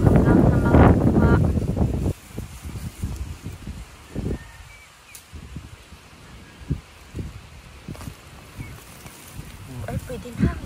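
Strong wind buffeting the microphone in an open farm field, a loud roaring gust at first, then quieter gusty rumbles and bumps with brief rustling through the rest.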